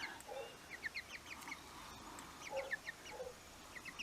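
Chickens cluck in short, scattered bursts, some higher squawks among them, fairly quiet and close by.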